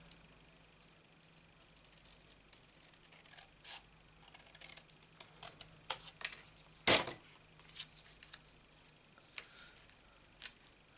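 Paper is cut smaller for a handmade card, a quiet run of scattered snips and light clicks with one sharp louder cut midway, in a calm, hushed room.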